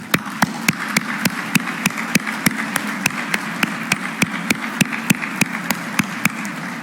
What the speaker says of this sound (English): stand up and applaud yourselves and the free press